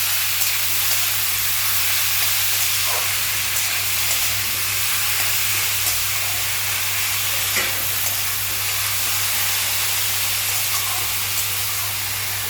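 Chopped bottle gourd is added to a pan with dried red chilli, then salted and stirred. It gives a steady, close, loud hiss of sizzling that runs the whole time with faint scraping from stirring and no voices.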